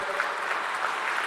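An audience rises in a standing ovation for Srikanth Bolla, founder and CEO of Bolant Industries, filling the room with dense, steady clapping that holds even from start to finish.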